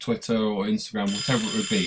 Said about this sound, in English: That is my alarm to tell me that this is now approaching 10 minutes.